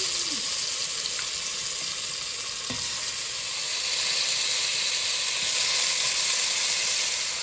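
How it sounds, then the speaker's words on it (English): Pig feet browning in hot oil in a pot, giving a loud, dense, continuous hissing sizzle with a few faint knocks. "you add your oil. And now you're gonna brown your meat."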